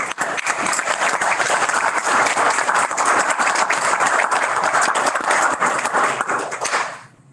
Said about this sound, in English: thank you so much for all of your applause